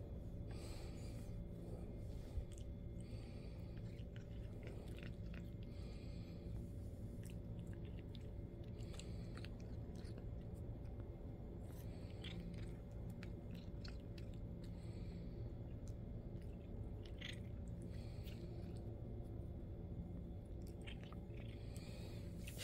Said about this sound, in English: She crunched that last one.